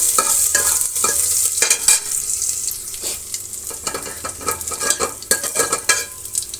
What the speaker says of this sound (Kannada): ಈಗ ಈರುಳ್ಳಿ ಮತ್ತು ಸ್ವಲ್ಪ ಕರಿಬೇವಿನ ಸೊಪ್ಪನ್ನು ಸೇರಿಸ್ತಾ ಇದ್ದೀನಿ. 2 ಫ್ರೈ ಆಗಲಿ.